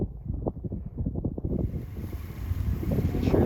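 Tractor pulling a feed wagon in to feed weaned calves on a ranch, a low steady engine rumble outdoors with wind buffeting the microphone, growing slightly louder toward the end.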